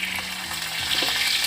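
Ginger paste frying and being stirred in a pan for chilli chicken, a steady close sizzle with faint scraping through the whole short stretch and no talk.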